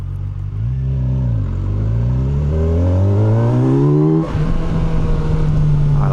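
A 2025 Kawasaki Versys 1100 SE motorcycle accelerates hard in sport mode, its loud intake roar climbing steadily in pitch, dipping briefly at a gear change, then holding a strong steady pull, close and with no talk.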